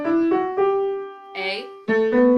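A major scale played upward from G as a run of distinct, clear pitched notes, each sustained briefly before the next, loud and close with no speech over it.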